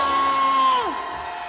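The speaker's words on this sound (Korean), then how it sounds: "함성 발사 소리 질러" Outside the Corruption Investigation Office, a crowd at a rally against the impeachment gives a short burst of shouting and whooping. A single rising then sliding cry stands out above the broad crowd noise, which fades slightly at the end.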